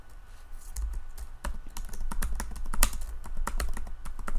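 Rapid clicking keystrokes on a computer keyboard while code is typed, a steady close-up patter of taps with a few sharper louder clicks, over a low background hum and with no talking.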